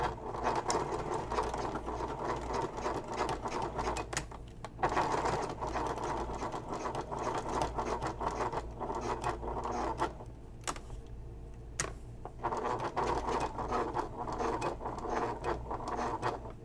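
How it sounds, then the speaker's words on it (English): A sewing machine stitches a messenger bag seam in long steady runs, its rapid mechanical whirr close and loud, with short pauses and clicks between bursts. "And now I'm going to sew the other side on."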